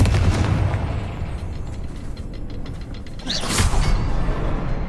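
Confringo spell explosion in the video game Hogwarts Legacy. A loud, booming burst with crackling debris fills the moment, followed by a brief bright whoosh near the end.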